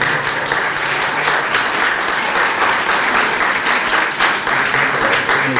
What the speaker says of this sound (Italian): Facciamo un bel applauso, Santone Maria.